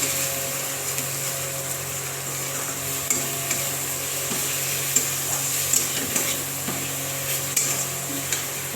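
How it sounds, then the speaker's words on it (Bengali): Spice masala of turmeric, cumin and coriander powder with salt frying in a pan, a dense continuous sizzle close by with steady stirring and occasional scrapes against the pan. "এবার এই মশলাটাকেও ভালো করে ভাজবো একটু।"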